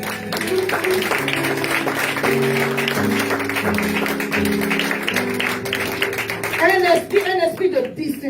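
A church congregation claps and cheers with a loud, steady wash of applause beneath a preacher's voice and sustained organ-like tones, with excited shouts rising near the end.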